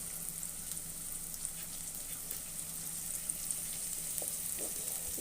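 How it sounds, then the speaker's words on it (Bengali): Green chillies with onion frying in a pan for a fish curry give a steady, soft, even sizzle with a faint hiss, close and quiet, with no one talking. "দিয়ে দিলাম আমি কাঁচা লঙ্কা"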